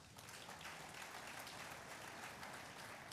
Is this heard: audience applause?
yes